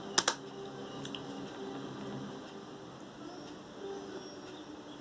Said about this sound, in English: Now you type